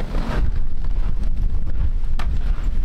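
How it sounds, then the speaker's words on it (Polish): Strong wind blows outdoors on Svalbard, buffeting the microphone with a steady, gusty low rumble that swells and dips from moment to moment. "Strasznie wieje."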